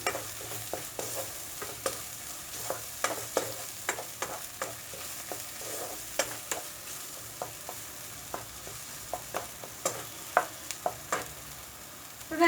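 Spice powders frying in oil for dum aloo, stirred with a spoon: a soft sizzle under regular scraping strokes against the pan, close and alone.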